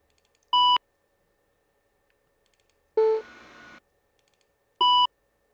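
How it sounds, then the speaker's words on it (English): Synthetic computer beep sound effects: three separate short electronic tones with gaps between them, the middle one longer and buzzier, all clean and isolated against silence. "Computer beep."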